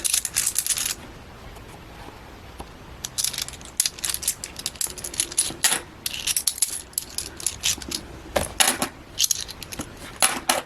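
Coins and cash go into a paper savings challenge envelope, giving close, loud bursts of jingling and rustling that come in irregular bunches with quiet gaps, and no talk.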